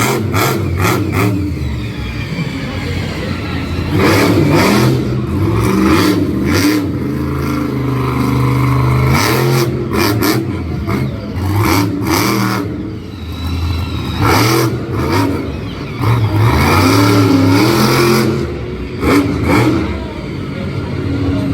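A monster truck engine roars and revs hard through a freestyle run, loud and sustained with repeated surges and dips in pitch, close and dominant throughout.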